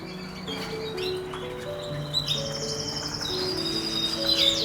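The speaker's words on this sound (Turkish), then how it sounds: "İçinde birçok erkek kanarya var." Several male Gloster canaries, among them a grey crested breeding bird, chirp and warble together in a cage, with steady overlapping song, high tweets and sustained trills running throughout, fairly close and lively.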